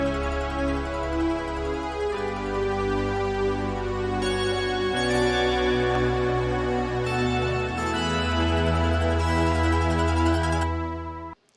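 A bright 1980s synth keyboard bell solo from a song plays over a steady synth-pop backing, loud and continuous with chord changes every few seconds, then cuts off abruptly at the end.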